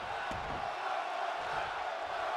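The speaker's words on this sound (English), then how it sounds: "The crowd are chanting one more time" Arena crowd noise in a WWE 2K wrestling show: a steady, broad roar of many voices, moderately loud and unbroken for the whole moment.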